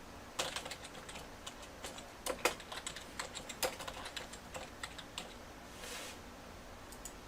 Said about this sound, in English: Going to it, typing this in.